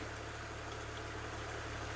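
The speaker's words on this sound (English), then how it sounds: "Some of you are going to whinge that the engine's running while I'm draining it." A BMW E46 engine idles with a steady low hum and a faint, even drone throughout, heard from nearby with no voices.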